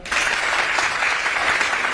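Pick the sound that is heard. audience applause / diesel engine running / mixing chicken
audience applause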